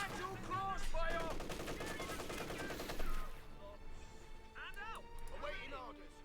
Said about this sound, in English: troops being torn apart there under a torrent of machine gun fire